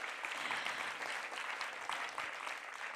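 An audience at a poetic sound-and-visual performance applauds for a performer, a steady wash of many hands clapping, fairly distant and soft throughout.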